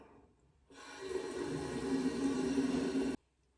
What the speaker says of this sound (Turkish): Şimdi yıkayacağım onu.